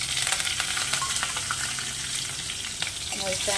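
Cumin, asafoetida, curry leaves and chillies sizzle loudly in hot oil with mustard seeds, a dense continuous crackling hiss close up, with small pops and a few stirring clinks throughout and no talking.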